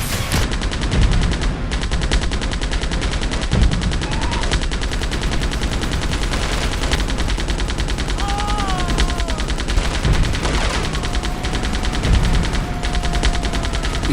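Gunfire in the Delta Force shooter game, dense rapid automatic bursts firing continuously and loudly throughout, with faint whistling tones threaded under the shooting.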